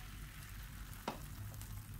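Thin egg omelette cooking in oil in a non-stick pan, a soft, low sizzle close by with one brief clink or scrape partway through, otherwise quiet and steady.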